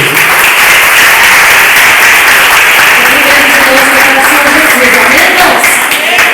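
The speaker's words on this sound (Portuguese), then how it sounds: "Vamos receber a serva do Senhor com uma salva de palmas para Jesus" A church congregation applauds loudly and continuously, a dense wash of clapping from many people close by, with voices mixed faintly into it.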